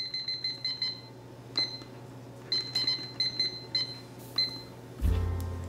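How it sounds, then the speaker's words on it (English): A kitchen timer is set for pizza baking in a 425-degree oven. It gives clusters of short, sharp beeps as buttons are pressed, then a louder low hum starts at the end. "Set our timer for 6."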